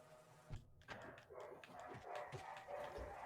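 Faint dog barking in the Hollow Knight game, a few short yips and barks under a steady low background bed, with no talking.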